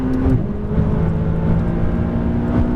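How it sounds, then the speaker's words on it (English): A car engine pulls hard at full throttle on a driving course, its steady tonal drone dropping briefly in pitch as a gear shift comes early, then continuing to climb, close and loud throughout. "More throttle, stay on throttle. Full throttle. Shift."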